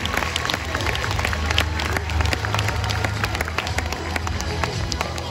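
Audience applause at the Beauval ZooParc sea lion water show, with Californian sea lions performing: steady dense clapping from a crowd, loud and sustained throughout, with some cheering mixed in.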